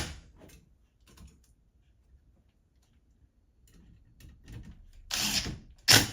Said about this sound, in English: then we'll tighten the middle screw down right there